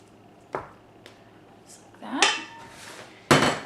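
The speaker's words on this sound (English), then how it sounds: "We're just going to use our spatula to scrape this into the bowl." A spatula scrapes soft red fondant mixture into a bowl, giving a few scattered scraping and clinking sounds against the bowl with a louder scrape near the end, close up in a quiet kitchen.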